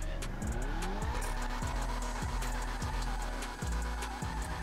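Annis Euros X32, a rear-wheel-drive car in the game GTA Online, accelerates hard through several quick upshifts, engine pitch climbing and dropping repeatedly with tire noise, loud and close without talk.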